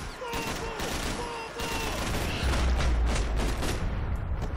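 Gunfire in the Max Payne 3 video game: a dense, loud stream of shots and bursts rolls on for several seconds, layered over steady background game sound with no clear pause.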